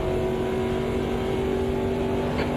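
Race car engines in the sim racing game Automobilista 2 during a historic 6-hour race at Monza, a steady loud engine drone holding a constant pitch throughout.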